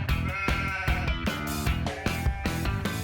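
Sheep on a working vet school farm bleat loudly and close by, several overlapping calls following one another in quick succession.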